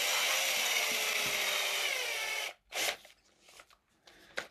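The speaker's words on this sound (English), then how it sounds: "I obviously need to drill these two fixing holes out" A fine drill bores fixing holes for a trailer lights socket on a Tamiya King Hauler model truck, whining steadily and loudly for about two and a half seconds before stopping, followed by a few faint handling clicks and scrapes.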